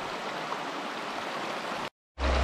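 Water of a creek in Spearfish Canyon, South Dakota, rushes steadily as a broad, even wash of noise, cutting out briefly before returning louder and closer.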